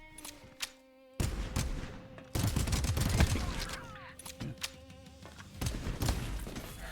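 Gunfire in Pax Autocratica, a burst-fire pistol and a machine gun, cracks out in sharp bursts and rapid repeated shots over game music, loud and close, with quieter gaps between volleys.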